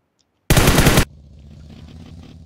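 A single loud, close burst of automatic gunfire from PUBG Mobile lasts about half a second and breaks sharply out of silence, leaving a low murmur of game ambience behind it.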